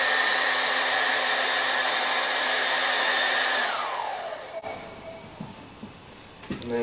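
A hair dryer blows hot air onto a damp sock, a loud steady roar that runs for several seconds before switching off and winding down, leaving quiet handling noises.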